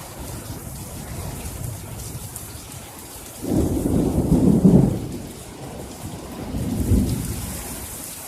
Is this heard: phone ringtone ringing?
no